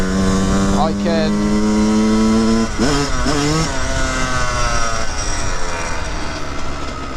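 A Yamaha YZ 125 two-stroke dirt bike with a newly fitted carburetor being adjusted revs loudly and close by, its pitch climbing and dropping repeatedly as the throttle opens and closes.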